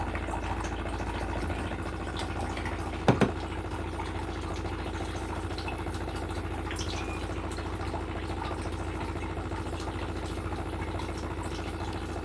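Water running through an Aura water filter system, a steady low trickle and hum with a faint drip texture throughout and one brief clack partway in, no talking.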